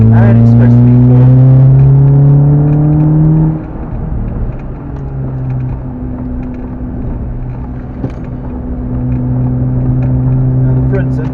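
A Renault Clio 182 lapping wet Cadwell Park holds a steady engine drone that drops in pitch partway through, with road and wind roar and a voice talking over it inside the car.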